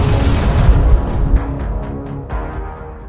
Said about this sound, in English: Explosions echoed across the countryside for kilometers